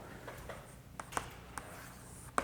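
Chalk or marker strokes on a board in a Korean civil law lecture hall, a few faint, short taps and scrapes spaced irregularly, quiet and close, with no talking.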